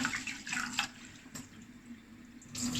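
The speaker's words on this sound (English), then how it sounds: "I want to wash the rices out a few times" Water splashing and sloshing as uncooked rice is rinsed by hand in a bowl, preparing for Persian saffron rice; close, moderate swishes with a few brighter splashy bursts, no talking.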